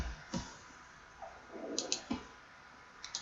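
A computer mouse clicks a few times while working through exam software, sharp isolated taps spaced over a few seconds, close and quiet.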